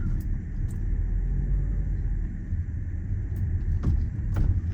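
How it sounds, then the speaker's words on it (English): A 2010 Audi A4 B8 Avant engine rumbles low and steady from inside the car as it makes a U-turn, with a few faint clicks and rattles. "I'm just gonna do a quick little U-turn."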